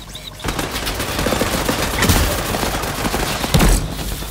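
Sustained gunfire rattles through a firefight in the video game Off the Grid, dense rapid shots blending into a continuous loud roar with a few heavier cracks near the end.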